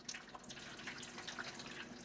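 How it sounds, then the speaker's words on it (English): Hot water pours from a jar into a pan during home canning of chicken broth, a steady close splashing trickle lasting about two seconds with no talk over it. "I'm just gonna use the hot water that's in the jar and pour it here into the pan"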